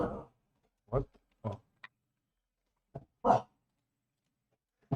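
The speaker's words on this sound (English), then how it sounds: "Sorry, that's my dog. He's crazy." A pet dog barks in a few short, sharp bursts spaced out over several seconds, close by in a quiet room, with a person briefly reacting between the barks.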